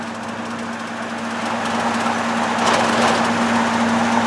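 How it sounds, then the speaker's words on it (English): A truck engine running without a working muffler: a steady raw droning rumble with a strong low hum, growing slightly louder over time, close and unbroken by talk. "You ain't even got a working muffler on the damn thing yet."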